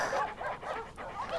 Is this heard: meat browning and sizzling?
no